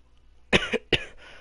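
A short burst of three harsh coughs, close and fairly loud, in quick succession.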